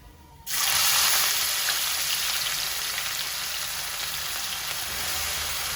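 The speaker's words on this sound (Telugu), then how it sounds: "ఆనియన్స్ కలర్ చేంజ్ అయ్యేంత వరకు ఇది ఫ్రై చేద్దామండి" Onions hitting hot oil in a pan with cinnamon, cloves, cardamom, cumin and pepper for Mughlai chicken, a sudden loud sizzle that settles into steady close crackling frying, no talk.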